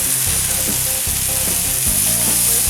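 Bacon-wrapped tuna pieces sizzle and crackle on a grill, a steady close frying hiss that runs throughout with occasional soft scrapes and clicks, no talking.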